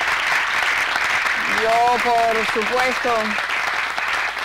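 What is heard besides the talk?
audience applause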